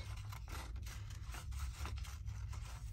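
Scissors snip through book-page paper to make journal cards: quiet, close, papery cuts in a steady, repeated stream over a low background rumble, with no one talking.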